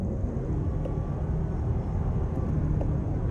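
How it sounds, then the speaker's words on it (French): A Lexus ES 300h hybrid sedan accelerating hard on a motorway in sport mode, its engine droning loudly and steadily under heavy low road rumble, with no talking. "Le moteur est un peu bruyant, je vous l'accorde."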